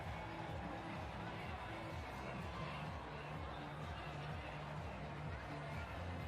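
A deep, dense crowd packs Oxford Street near Taylor Square for the Sydney Mardi Gras parade, a steady roar of cheering and chatter with a rhythmic music beat pulsing underneath.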